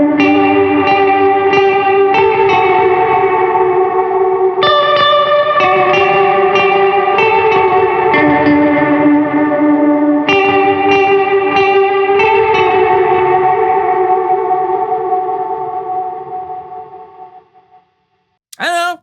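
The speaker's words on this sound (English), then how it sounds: "for the first time on the track, I am using some very dark reverb from the Meteore" Electric guitar played through the Caroline Meteore pedal set to a very dark reverb, sustained chords and notes blooming and overlapping in a wash of echo, then fading out toward the end before a brief final pluck.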